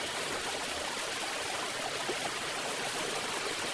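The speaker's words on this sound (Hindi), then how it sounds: "नदी मध्यम मध्यम बह रही है।" A gently flowing river gives a steady, even rush of water with a soft trickling texture, continuous and fairly close, with no voices.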